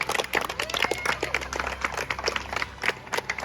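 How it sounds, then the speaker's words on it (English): Applause from a small group for eliminated Survivor contestants, a dense patter of many hands clapping steadily and fairly close, with no voices over it. "Give them a round of applause."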